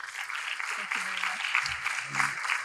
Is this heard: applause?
yes